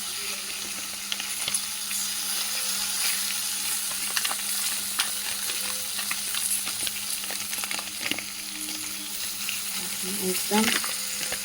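Ginger-garlic paste frying in a pan at home: a steady, close sizzle runs throughout, with occasional scraping and clinking from stirring, louder near the end.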